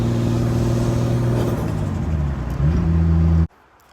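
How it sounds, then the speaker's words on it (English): Nissan R33 Skyline GTS25T idling steadily up close, a loud even drone with a slight blip near the end before the sound cuts abruptly to quiet. "And this car is ready to run."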